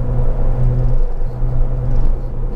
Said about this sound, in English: Oh, exhaust sound is very good.